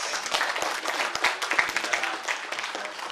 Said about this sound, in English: just give another round of applause for Marble Hornets